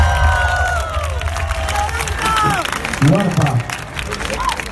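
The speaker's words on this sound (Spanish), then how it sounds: "Un aplauso más para la luz de Laura" Festival crowd at a live music show applauds and cheers, with scattered shouts and whoops over music and amplified voices, fairly close and loud.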